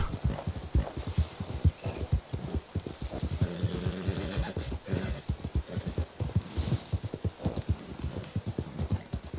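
Horse hooves clip-clop steadily in Red Dead Redemption 2, a rhythmic run of close, firm footfalls on a trail with a faint hum beneath, continuing for the whole stretch.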